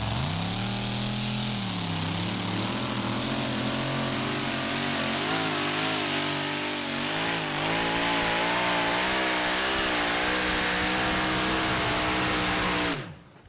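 A pulling tractor named Excalibur roars through a tractor pulling run at a festival, its engine revving loud and sustained with rising and falling pitch for most of the run before cutting off abruptly at the end.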